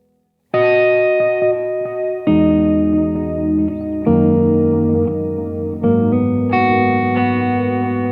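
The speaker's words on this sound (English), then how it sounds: "So here's just delay." Electric guitar strumming sustained chords, each one trailing into repeating echoes from a Jet Pedals Red Sea delay effect, loud and close with no talking.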